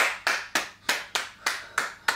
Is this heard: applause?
yes